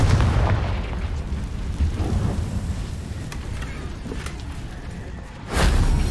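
A Confringo fire spell explodes in Hogwarts Legacy with a deep, rumbling boom that slowly decays, followed by a second heavy burst near the end, loud and close with no talk over it.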